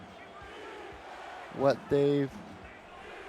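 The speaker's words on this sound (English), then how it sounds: "Crowd picks up a chant of defense here" A football stadium crowd chants a two-beat defensive call once, a brief swell of voices rising above the general murmur while a commentator talks.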